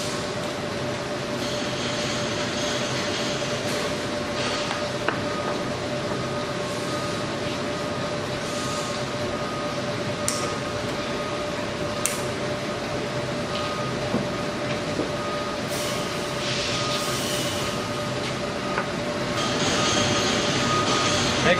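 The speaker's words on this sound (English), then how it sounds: "Now we're ready to run the cable out so we can run it through the sliding head and back down to the carriage." Maxial winch paying out wire rope cable, a steady mechanical whir and rumble with faint clicks and rattles throughout, running continuously at moderate loudness.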